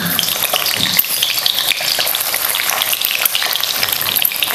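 Beaten egg mixture, for an egg and tomato dish, sizzles and crackles steadily in hot oil in a pan, a dense, close frying hiss with faint stirring scrapes throughout and no voices.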